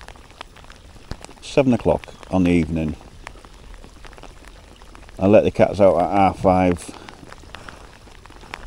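Steady rain patters in the background while someone talks close by during a pike fishing session in February.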